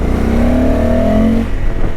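A Honda Africa Twin Adventure Sports DCT motorcycle with a 19-inch front wheel accelerates hard, its engine note loud and close, rising in pitch as it pulls through a gear, with no talking.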